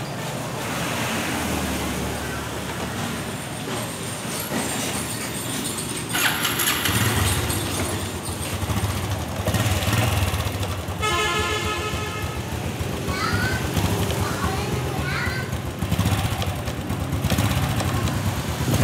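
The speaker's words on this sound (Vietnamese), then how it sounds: "Rồi mình sẽ nổ máy cho các bạn cùng nghe luôn ha." A Honda Wave RSX motorcycle engine starts and settles into a steady low idle, heard close amid wind noise outdoors.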